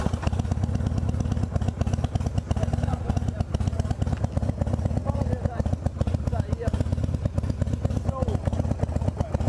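Harley-Davidson TwinCam 96 motorcycle engine running steadily, a loud close rhythmic loping rumble with mechanical clatter throughout, and someone talking over it.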